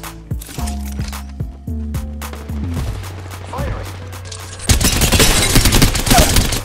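Video game gunfire rattles out in a rapid burst over a backdrop of rhythmic, low tonal music, ending in a loud, dense volley of shots.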